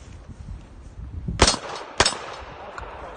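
Two handgun shots are fired at steel targets on an outdoor combat course, each a sharp, loud crack about half a second apart, with faint ringing after each one.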